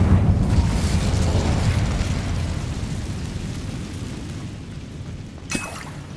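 Incendio fire spell cast in the video game Hogwarts Legacy: a loud, broad whooshing roar of flame that swells at the start and slowly fades, with a faint click near the end.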